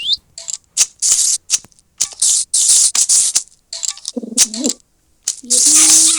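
Short bursts of bright chirping and clicking from a bird in Minecraft come in quick clusters with brief gaps, closing on a low warbling coo.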